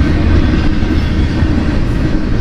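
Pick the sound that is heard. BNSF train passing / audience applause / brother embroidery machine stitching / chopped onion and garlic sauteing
BNSF train passing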